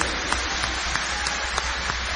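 An audience applauds in a steady crowd-wide patter of clapping, with a few sharper individual claps standing out. The sound is moderately loud and spread evenly throughout.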